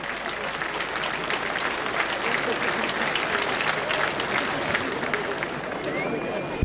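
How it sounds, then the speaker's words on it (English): A large cricket crowd applauds steadily at a one-day cup final, a dense wash of clapping from many hands spread around a wide open ground. "Applause from round the ground for him now."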